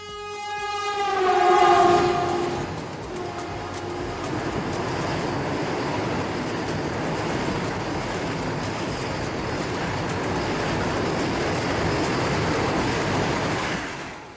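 A Vande Bharat express train sounds its horn in a loud, sustained blast at the start, then rumbles past steadily with a continuous roar of wheels and carriages that holds until the end.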